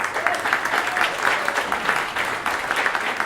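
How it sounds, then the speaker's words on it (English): A comedy club audience gives a round of applause, dense steady clapping from a crowd close by, lasting the whole moment. "You guys give yourselves a big round of applause."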